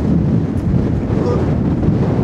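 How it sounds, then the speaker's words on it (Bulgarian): Strong, icy wind on the summit of Golyam Kademliya mountain, buffeting the microphone as a loud, continuous roar with no pauses. "стана леден студен вятър тук горе на върха. Голям вятър, не знам дали се чувам."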